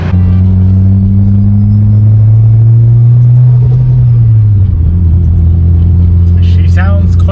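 A Mitsubishi Evo with a freshly rebuilt transmission drives along, its engine humming loudly and steadily, the pitch easing lower midway as it shifts, close and continuous.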